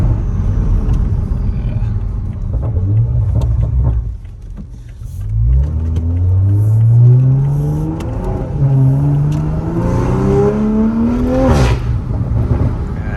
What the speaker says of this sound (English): the turbos sound hella good